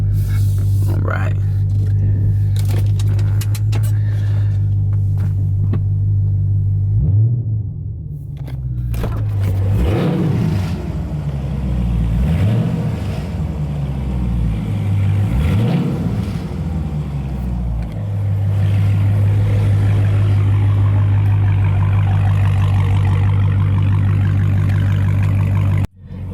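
A 2017 Dodge Charger Daytona engine idles with a steady deep hum, then a few quick throttle blips rise and fall in pitch before settling back to idle; someone talks over it.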